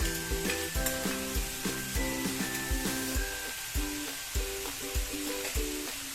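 Vegetables including carrots sauté in a hot pan for rava appe, giving a steady close sizzle with repeated rhythmic scraping and stirring knocks of a spatula throughout, with no talk.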